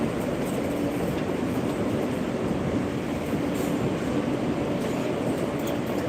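A train rolls along its rails in a dense, continuous rumble, loud and steady from start to finish, with faint clatter and a light high hiss riding over the low roar.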